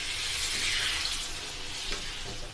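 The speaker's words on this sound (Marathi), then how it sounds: "अर्धा ग्लास पाणी घालणार आहे" Half a glass of water poured over roasted mixed vegetables with cauliflower in a hot pan, giving a loud, steady hiss and sizzle close up that fades a little toward the end, with no talking.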